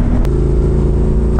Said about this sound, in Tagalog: Ingay ng tambutso nito.